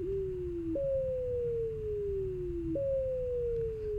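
A pure synthesized tone swept by a sawtooth modulator: its pitch jumps up sharply, then glides slowly downward before jumping again, repeating in a steady cycle over a low background hum, with no talk.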